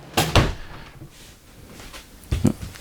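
Workshop drawers being opened and shut in a woodworking shop, giving two bursts of sliding thumps, the first pair close together at the start and another knock near the end, with quiet between.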